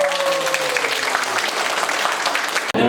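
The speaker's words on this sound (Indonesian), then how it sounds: "Tepuk tangan dong." Short burst of audience applause at a farmers' field school gathering on cocoa, steady and fairly loud before cutting off abruptly.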